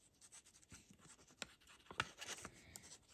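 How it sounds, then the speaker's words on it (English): A pen scratches a name onto a piece of paper in quick, faint, close strokes with small pauses between them, heard alone in a quiet room. "So writing here your own name into this piece of paper."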